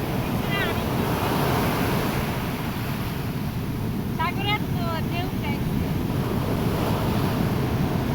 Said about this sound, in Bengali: কি ঢেউ দেখছেনি